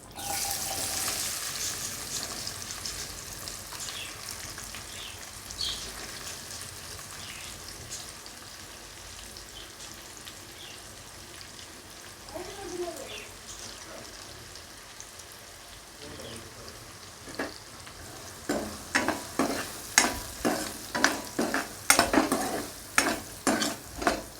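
Onions and green chillies fry in oil in a pan, a faint sizzle with occasional stirring, then a run of quick, loud scraping strokes toward the end; a voice speaks briefly and water runs at moments.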